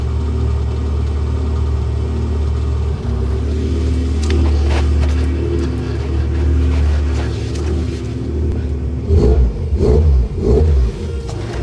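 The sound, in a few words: Golf GTI 2.0 8V engine revving after ECU tuning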